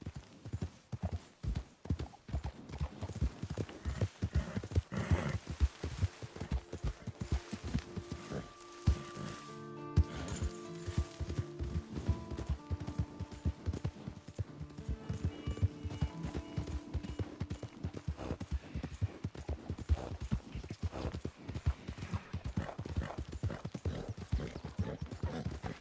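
Horse hooves clip-clop steadily and close in Red Dead Redemption 2, a brisk, even gait of hoofbeats that runs unbroken for the whole stretch, with faint tonal sounds drifting in the middle.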